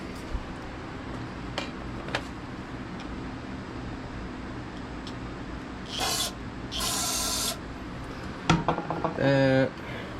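Starting fluid is sprayed into the engine of a Craftsman riding mower in short hissing bursts, two of them close together and one more near the end, over a faint steady background.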